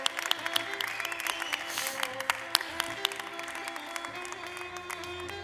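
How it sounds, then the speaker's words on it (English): An audience at a startup demo day in Barcelona claps for a pitch, crisp scattered claps over a steady hum with faint tonal background lines. "Big round of applause."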